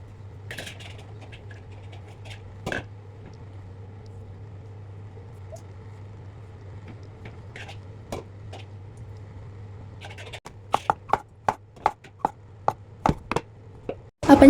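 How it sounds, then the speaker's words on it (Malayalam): Knife chopping mushroom, potato, onion, tomato, ginger and garlic on a board: quiet sparse taps at first over a steady low hum, then a quicker run of sharp, close chops toward the end. "അപ്പോൾ ഇത് നമുക്ക് ചെറുതായിട്ട് അരിഞ്ഞെടുക്കാം."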